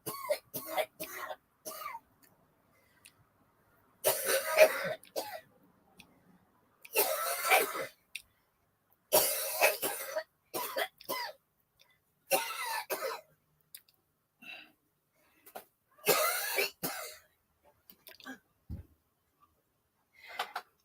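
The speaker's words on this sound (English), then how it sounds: "She's had a cough all day." A series of harsh, raspy coughs in short bursts separated by pauses, close and fairly loud, with some throat clearing.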